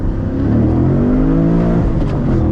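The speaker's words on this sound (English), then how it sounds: "we're gonna do one more pull before we end the video, all right? In first gear" A cammed Chevrolet Camaro Z/28 pulls hard in first gear, its loud engine climbing steadily in pitch as it revs, heard close from inside the car with no talking.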